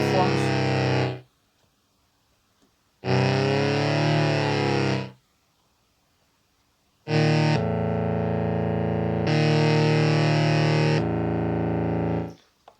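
Korg Volca Keys synthesizer sounding sustained buzzy tones on different waveforms, three loud held notes and chords separated by short silences, the last one long with a timbre shift midway.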